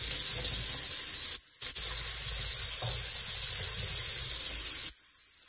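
Sliced onion and garlic frying in a hot pan for an Arabian-style chicken dish: a loud, steady, close sizzle and crackle with a brief drop in the middle and a quieter hiss at the end, no talking.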